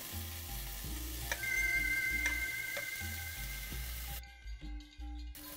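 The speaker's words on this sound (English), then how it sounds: "let them sizzle away" Garlic, cumin and cinnamon sizzle steadily in hot oil in a pan, a close, continuous crackling hiss broken by a few sharp ticks, ending in quieter scraping as the pan is shaken and tossed.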